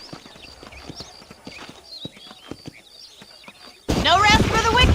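Horse hooves clip-clop in a steady, close, rhythmic beat in the Western video game Red Dead Redemption, then a burst of louder, busier game noise takes over near the end.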